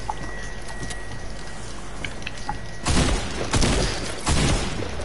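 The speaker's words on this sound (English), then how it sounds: "he's shooting us down" RPG and gunfire in a Spider-Man video game, with a continuous rumble of combat noise at first, then three loud blasts in a row near the end.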